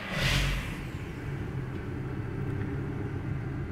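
Car engine started after repair, a brief loud whir of cranking that catches into a steady low rumbling idle, recorded close.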